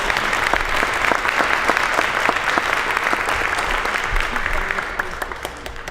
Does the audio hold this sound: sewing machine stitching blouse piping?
no